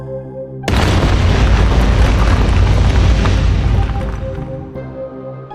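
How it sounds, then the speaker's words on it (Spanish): A sudden loud booming crash rolls into a sustained deep rumble, like stone shaking violently, holding strong for several seconds before slowly fading. "el templo sintió una sacudida atroz junto a un fuerte estruendo"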